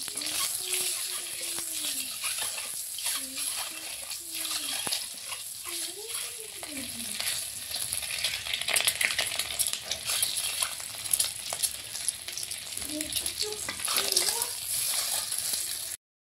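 Chana dal fries and is stirred with salt and turmeric in a pan, making a constant close sizzle and hiss with occasional soft stirring sounds while someone talks over it.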